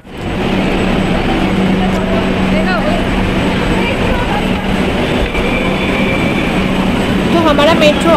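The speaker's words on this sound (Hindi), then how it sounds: "तो हमारा मेट्रो आ गया है" Metro train pulls into a station with a steady loud rumble of wheels on rail, a high whine and squeals rising near the end, continuous and close for the whole stretch.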